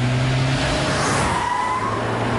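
A car fitted with electronic stability control swerves on a test track, its engine droning steadily throughout, with a rising tyre and engine whine through the middle and no talk.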